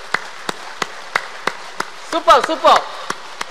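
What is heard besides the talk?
group clapping hands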